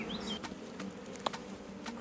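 Honey bees fly around a Warré hive during swarm recovery, producing a steady, close buzzing drone with individual bees passing near and away, no voices over it.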